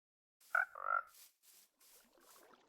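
A frog in Minecraft with the Cobblemon mod gives two quick, bright croaks, the second a short rattling trill, followed by soft, faint ambient game noises.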